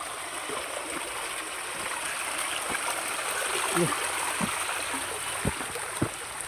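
A flowing, muddy stream rushes in a steady, close wash of water, with a few small knocks and faint voices in the background.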